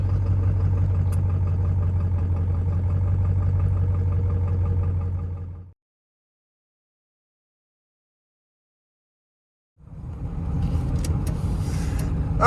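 A 1996 Ford F-250 with the 7.3-litre Power Stroke diesel idles with a steady, deep rumble and a regular clatter, cuts to silence for several seconds, then resumes idling.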